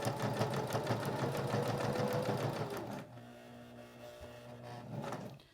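A sewing machine runs steadily at speed while stitching a business card holder, a close, loud rhythmic chatter that stops abruptly, leaving a faint low hum and a small clunk.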